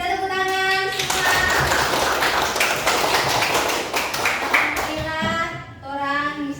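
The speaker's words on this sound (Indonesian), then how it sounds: "Kita tepuk tangan semua." A crowd with children claps together in a steady burst for several seconds at a school, between stretches of someone speaking, with children's voices mixed in.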